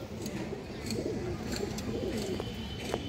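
Gorra pigeons coo in a low, steady murmur, with soft repeated calls layered over a constant close-up flock ambience and no voices.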